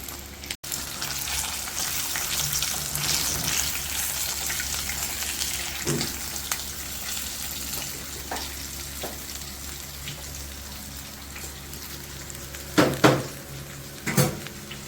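Fish frying in a pan with a continuous sizzle and crackle, a low background hum, and a few clinks of utensils near the end.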